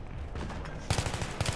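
Battlefield 3 gunfire bursts in a firefight, a low steady rumble giving way to a cluster of sharp rapid shots in the second half.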